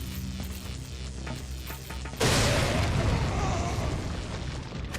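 A grenade blast in Resident Evil 4 erupts partway through, a sudden loud boom with a rumbling, crackling tail that fills the rest of the moment over ongoing game sounds.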